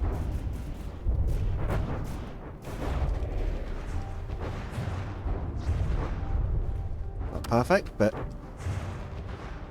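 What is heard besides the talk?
warship main guns firing in From the Depths video game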